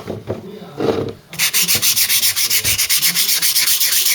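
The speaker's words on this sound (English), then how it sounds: "Sandpaper next to smooth all that out." Sandpaper worked by hand over body filler on a Mk3 Cortina panel, a rasping scrape in a steady, even back-and-forth rhythm, loud and close, after a brief rougher rub at the start.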